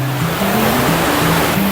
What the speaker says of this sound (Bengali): আশা করি সবাই সাউন্ডটা শুনতে পাচ্ছ, এই জলের সাউন্ডটাই তো ভালো লাগে।